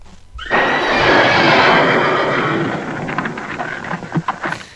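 A horse gives a loud, drawn-out neigh, played as a sound effect, with a rushing, stormy background that fades into scattered clip-clop-like thuds at the end.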